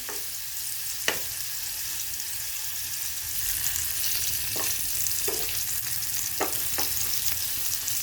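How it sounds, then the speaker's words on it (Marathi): Paneer cubes frying in oil in a pan, turned to brown on both sides for dhaba-style paneer masala, giving a steady dense sizzle with occasional sharp spatula clicks, close and continuous. "हे असं दोन्हीकडून आपल्याला हे असं फ्राय करून घ्यायचंय, थोडा कलर बदलेपर्यंत।"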